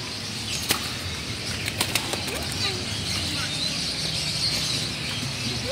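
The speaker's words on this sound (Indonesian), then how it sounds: "Lihat-lihat burung." Birds at a bird market flap their wings and give faint chirps and coos, heard against a steady wash of crowd and street noise, with voices nearby.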